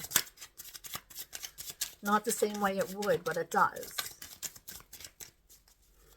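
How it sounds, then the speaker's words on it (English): Tarot cards being shuffled, a dense run of quick papery riffles and flicks running throughout, close and fairly quiet, under someone speaking over much of it. "I am shuffling for the Scorpio collective."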